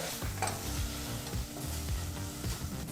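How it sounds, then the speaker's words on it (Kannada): Tomatoes frying on a medium flame for broken-wheat khichdi, stirred in the pan with steady sizzling and scraping close by, no voices. "ಈ ರೀತಿ ಟೊಮೊಟೊ ಹಣ್ಣನ್ನು ಸಹ ಮೀಡಿಯಂ ಫ್ಲೇಮಲ್ಲೇ ಫ್ರೈ ಮಾಡ್ಕೋಬೇಕಾಗತ್ತೆ"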